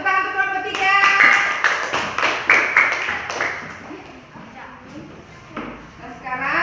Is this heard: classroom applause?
yes